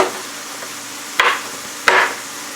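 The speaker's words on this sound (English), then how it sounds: "Just going to chop these up a little bit smaller so that it gets more shared throughout the food." Two sharp knife chops through broccoli on a cutting board, spaced under a second apart, over a low steady background hum.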